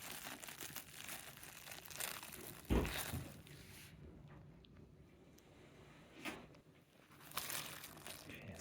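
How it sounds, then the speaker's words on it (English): Plastic packaging around a Roman nail crinkles and crumples in uneven bursts, with a sharper crunch about a third of the way in and quieter rustling later, fairly close. "I guess it's not bubble wrap, it's plastic."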